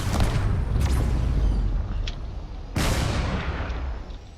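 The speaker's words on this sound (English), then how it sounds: "So all these autocannons are starting to fire." Autocannons and long-range weapons fire on ships in a desert-warfare video game battle, heavy booming blasts with rumbling tails and a couple of sharp distant pops, loud and dense with no talk.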